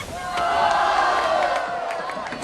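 Crowd roaring and cheering at a street race in The Fast and the Furious, a loud, sustained mass of voices with sharp whoops and shouts.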